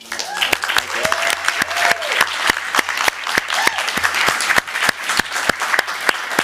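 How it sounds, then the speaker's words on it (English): An audience applauds at a Burbank city council meeting: steady, fairly close clapping from a modest crowd with sharp individual claps standing out, while a voice speaks over it. "we're going to give you a huge round of applause"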